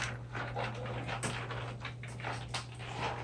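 Five-week-old bully puppies make soft panting and faint whimpering sounds close by, with a brief louder rustle partway through and no talking.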